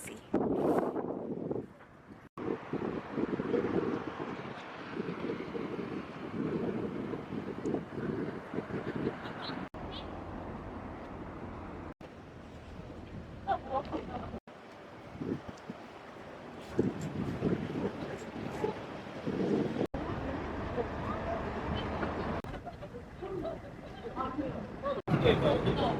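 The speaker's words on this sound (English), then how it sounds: "it's really windy" Strong gusty wind buffets the microphone at Hwaseong Fortress in Suwon, rising and falling in loud rumbling bursts with short quieter pauses throughout.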